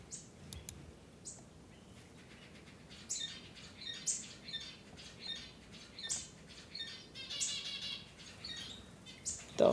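Seagulls squawk in short, scattered calls, a series of faint sharp cries repeating over a quiet background.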